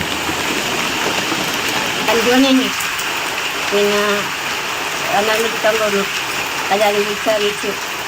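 Heavy monsoon rain in Kerala pours in a steady, dense hiss throughout, with a voice intermittently audible over the downpour.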